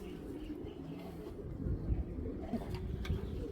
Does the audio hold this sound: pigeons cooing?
yes